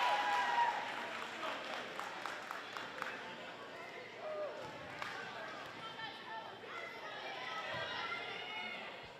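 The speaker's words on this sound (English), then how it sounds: "Nice lively crowd in the gym for this match here tonight." Lively crowd noise in a school gym during a girls' high school volleyball match, with cheering, scattered claps, shoe squeaks and chatter, while an announcer talks over the steady din.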